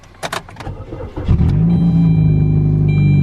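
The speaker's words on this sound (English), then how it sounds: "Hopefully the exhaust doesn't fall back off and get even louder." A car engine starts with a few clicks and thumps, then settles into a loud, steady exhaust drone rumbling close by.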